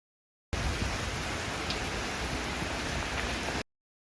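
Steady rain falls as a dense, even hiss for about three seconds, starting and stopping abruptly, with no voices over it.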